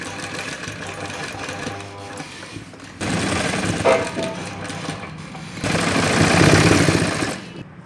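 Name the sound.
sewing machine stitching fabric for baby shorts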